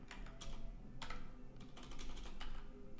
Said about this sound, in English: typing is hard today.